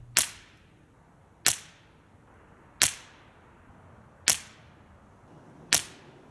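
Five quiet .22LR rifle shots through a Liberty Infiniti 9mm suppressor, evenly spaced, each a brief snappy crack that decays fast, heard alone with no voices.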